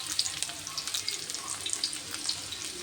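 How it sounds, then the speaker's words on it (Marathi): Sliced onion sizzles in hot oil in a pan as the base of a spicy mutton curry, a soft, steady crackle with bright spatters, heard faintly and close. "इथं मी तेल टाकून घेते, कांदा टाकून घेते"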